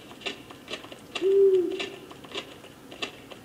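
An owl hoots in a Lego Harry Potter video game, a single clear hoot of moderate loudness over faint game ambience.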